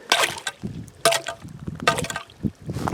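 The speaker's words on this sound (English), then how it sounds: "So basically just, you know, chipping out the ice." Sharp, irregular chopping and scraping strikes chipping ice from an ice-fishing hole, several bursts in quick succession, close and fairly loud, with a wet, slushy edge.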